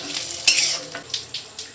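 Fried vegetables, including eggplant and plantain, get stirred in a pan with a spatula, giving a few distinct scraping strokes over a soft background sizzle, up close and short.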